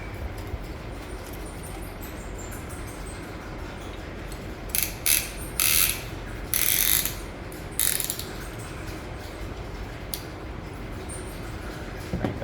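Ratchet tightening a piston ring compressor on a Cadillac 500 engine short block, bursts of quick clicking in several short runs, close and fairly faint over a quiet background, no talk.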